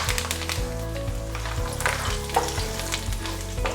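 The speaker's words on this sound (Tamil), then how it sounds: "கவனமா இருங்க, ஏன்னா எண்ணெய் பயங்கரமா தளிக்கும்" Black pepper, curry leaves and cashews sizzle loudly and steadily in hot oil for a ven pongal tempering, with a dense, continuous crackle and no speech.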